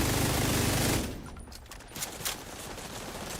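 Light machine gun in The Division 2 firing a dense, rapid automatic burst for about a second, then cutting off into quieter scattered shots and impacts.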